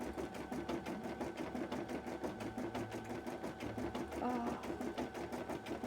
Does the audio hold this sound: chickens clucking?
no